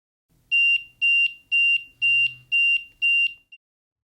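An RDS-32 radiation dosimeter sounds its alarm: six evenly spaced, piercing high electronic beeps about half a second apart, loud and close, with no other sound around them.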